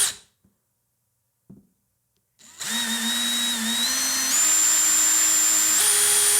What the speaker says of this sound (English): we're going to drill our 2 holes here